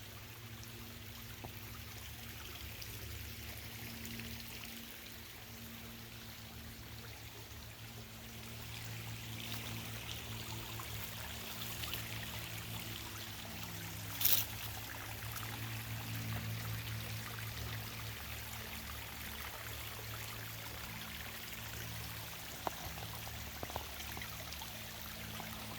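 A small outdoor stream keeps up a soft, even trickle for the whole stretch, faint and constant, with a low background hum and a couple of brief clicks.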